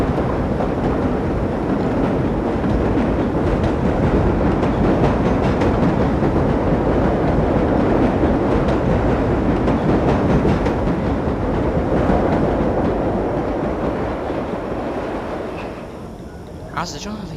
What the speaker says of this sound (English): I forgot there was a train next to me